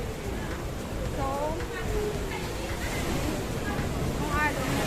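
Ocean waves and surf wash steadily along a rocky shoreline at Cape D'Aguilar in Hong Kong, a continuous loud roar mixed with wind buffeting the microphone, with voices faintly audible underneath.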